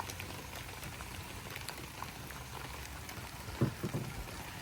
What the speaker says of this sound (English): But the rain got us.